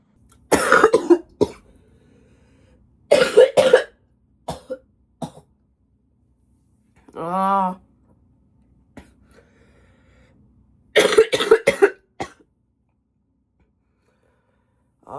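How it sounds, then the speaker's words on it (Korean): Repeated bursts of harsh coughing from a young adult with influenza, close and loud, in three clusters separated by pauses, with a brief strained vocal groan in between. "기침이 지금 너무 심해졌어요."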